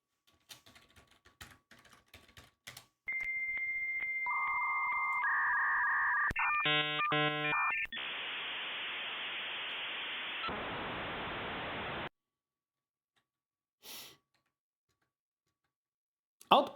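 Lottery machine 'thinking' sound effects from the 1988 computer game Leisure Suit Larry 2: a run of bleeping electronic tones and rapid chirps gives way to steady hissing static bursts, fairly loud, followed by a few faint blips.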